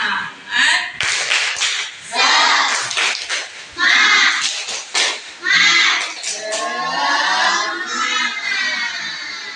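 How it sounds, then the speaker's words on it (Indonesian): Schoolchildren in a sixth-grade primary classroom perform a rhythmic spirit clap, loud bursts of patterned clapping mixed with children's chanting voices and a teacher's voice, starting and stopping in quick groups. "kita tepuk semangat dulu"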